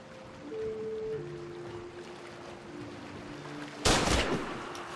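A single sharp gunshot fired at a hunter in a crafting and survival first-person shooter, a sudden loud crack near the end after quiet ambient background with faint tones.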